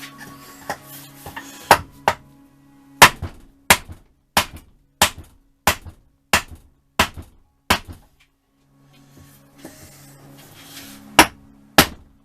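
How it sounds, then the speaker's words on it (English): A heavy-duty hammer strikes a seized Yamaha FZR1000 motorcycle engine over and over, with sharp metallic blows at an irregular but steady pace, several rings louder than others, and a short pause near the end before the blows resume. "Come on, heavy duty hammer."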